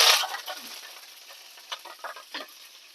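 Curry leaves drop into a hot pan of oil for an eggplant and green chana dal curry, bursting into a loud, sharp sizzle that settles into a quieter, crackling fry with small spits and stirring.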